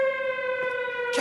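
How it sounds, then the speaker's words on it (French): A steady wailing alarm siren sounds loud and close for a brief burst, holding one sustained tone, with a short noisy rustle near the end. "C'est une alarme."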